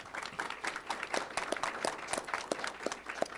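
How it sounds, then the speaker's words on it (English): Applause from the audience at a county board of commissioners meeting, a moderate patter of individual claps heard at some distance and fairly quiet. "if you could give them a round of applause, that'd be great."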